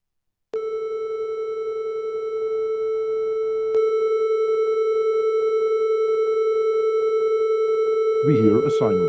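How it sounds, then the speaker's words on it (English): A steady pure sine tone from a software oscillator in PureData, played through a computer's audio output, holding one pitch continuously for several seconds with a faint click partway, and a voice briefly speaking at the end. "We hear a sine wave."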